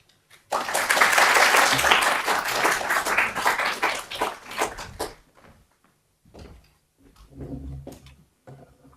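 A panel audience breaks into warm applause for a speaker, loud and sustained for about four seconds before tapering off, followed by a few scattered claps and shuffling sounds.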